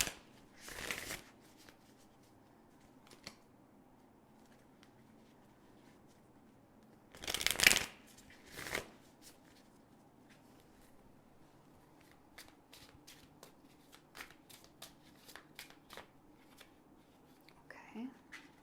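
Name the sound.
shuffling tarot cards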